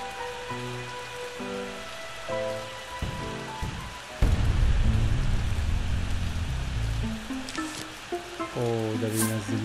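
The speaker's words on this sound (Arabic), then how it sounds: "اوه هنلعب والدنيا بتمطر" Rain falling in a Plants vs Zombies level, a steady hiss of rainfall that swells louder midway, alongside tinkling game music and a few bright effect sounds.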